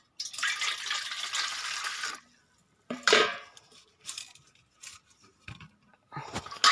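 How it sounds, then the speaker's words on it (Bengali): Water is poured out and splashes in a domestic kitchen, a steady pour for about two seconds followed by scattered drips, clinks and handling noises, close and fairly quiet. "ওই জলটাও ফেলে দেব।"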